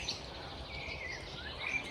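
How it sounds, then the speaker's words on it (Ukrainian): Birds sing in a riverside forest during a fishing outing, their faint chirps and tweets scattered over a steady outdoor background hiss. "Співають пташки."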